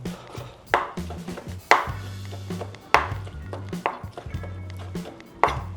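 A knife chops food on a board in about six firm, evenly spaced strokes, each a sharp close thud followed by a short ring and quieter taps between.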